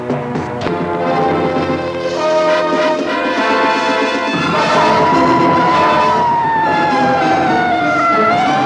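A loud wailing ambulance siren rises and falls over heavy traffic-like rumble, sustained and close throughout.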